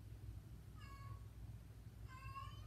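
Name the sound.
cat in heat screaming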